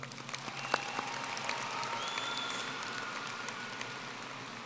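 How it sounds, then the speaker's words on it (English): Audience at the Coronado High School 2022 graduation applauds in a steady, moderately distant wash of clapping, with a few scattered sharper claps standing out. "Another round of applause for that."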